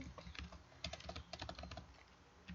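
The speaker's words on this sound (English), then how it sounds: "Sorry for my typing" Computer keyboard typing up close with quick irregular bursts of keystrokes and short pauses between them, fairly quiet and unaccompanied by speech.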